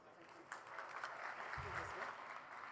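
Audience applause at a science and spirituality summit, a steady wash of clapping from a large crowd that carries through the whole stretch, with a brief low thump midway.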